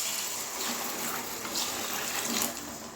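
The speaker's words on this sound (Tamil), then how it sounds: "டம்ளர் தண்ணி ஃபுல்லாக ஊற்றிடலாம்." Water poured in a steady stream into a cooking pan while egg gravy is being made, a continuous close gushing splash that runs throughout with no talk.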